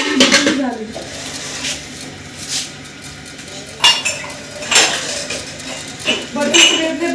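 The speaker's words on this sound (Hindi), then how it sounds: "बर्तन समेटने बहुत मुश्किल होते हैं, कोई कहाँ रखूँ ऐसे समझ नहीं आती कहाँ रखूँ।" Metal pots, pans and utensils clink and clatter in scattered bursts while they are gathered in a kitchen during iftar preparations, and someone talks between the clanks.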